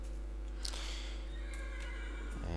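A horse in Minecraft neighs in a quick whinny over a steady low hum, with faint hoof clops, and nobody talks.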